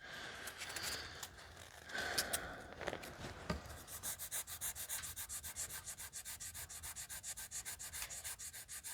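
Wood filler on furniture being sanded by hand with sandpaper, soft close scratching that settles into a quick, steady back-and-forth rhythm.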